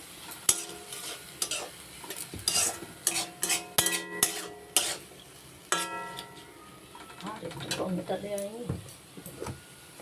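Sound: stirring fish curry with chilli and salt in pan

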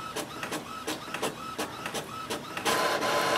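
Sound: Epson WorkForce WF4830 printer printing

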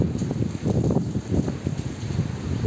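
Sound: strong typhoon wind and rain

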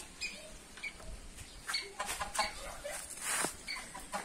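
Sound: chickens clucking in a chicken coop

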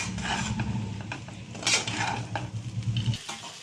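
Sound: stir-frying leftover chapati poha with crushed peanuts and coriander

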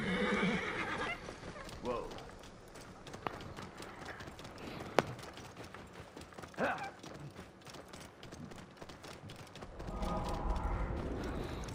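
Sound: horses neighing in the video game Assassin's Creed Origins

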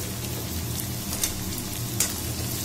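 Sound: chopped onions sautéing in oil in a pan

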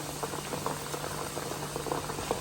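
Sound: herbal hair oil simmering on low heat

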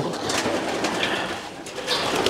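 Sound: darkened racing pigeons cooing

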